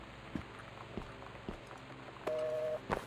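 In the video game Gone Home, a telephone line with no caller gives faint, evenly spaced clicks, then a brief steady tone sounds clearly and cuts off.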